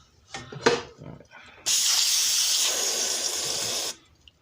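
Aerosol lubricant sprayed onto a lawn mower deck with a 140 cc MTD engine, one steady loud hiss lasting about two seconds, after a few brief clicks and handling noises.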